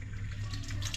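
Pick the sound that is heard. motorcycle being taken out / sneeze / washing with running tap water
washing with running tap water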